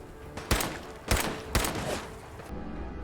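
Gunfire in the game Fallout 4: three loud, sharp shots spaced about half a second apart, each with a brief decaying tail, over a steady background of game ambience.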